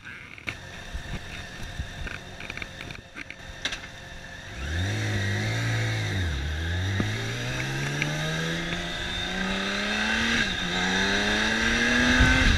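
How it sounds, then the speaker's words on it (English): A BMW motorcycle engine revs up and pulls away, its pitch climbing and dropping through gear changes, a steady roaring drone while riding. "The big beamer sounds more like a Porsche, and it's a lot of fun even on the back roads."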